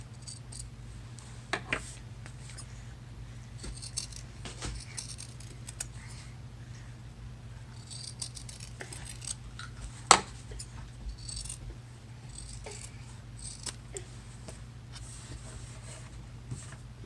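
Scissors trim the rounded edges of a sewn fabric crossbody wallet, making faint, sparse snips and light clicks scattered over a quiet room hum, with one sharper tap midway and no talk.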